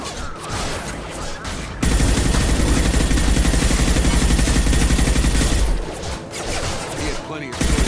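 Heavy automatic gunfire rattles nonstop in Mass Effect 2, a loud dense burst of rapid shots lasting several seconds, framed by quieter combat noise before and after.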